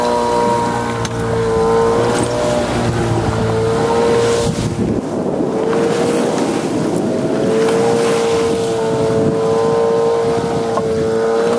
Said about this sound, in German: da kommen schon ein bisschen dickere Wellen gerade